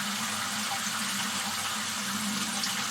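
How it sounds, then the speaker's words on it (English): A hot and cold shower runs steadily on a utility water system fed by a newly connected thermal panel, giving continuous broadband hiss and spatter at moderate, even loudness with no talk. "That is a good shower."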